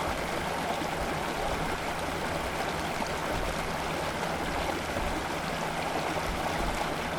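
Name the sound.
water washing out a scale model roadway over a clogged culvert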